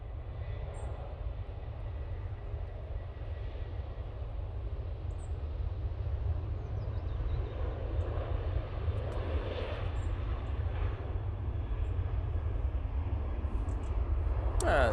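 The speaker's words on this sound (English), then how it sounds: "737-800 now on the roll." A Ryanair Boeing 737-800 jet on its takeoff roll at Manchester Airport sends up a sustained, moderately distant engine roar that builds slightly toward the end over a steady low rumble.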